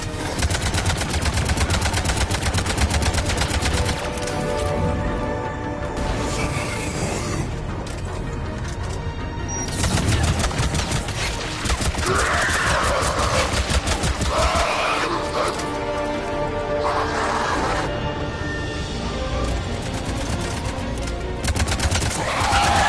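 Sustained gunfire in Mass Effect 3, rapid automatic bursts and impacts filling the scene continuously, loud and dense with occasional shouted orders.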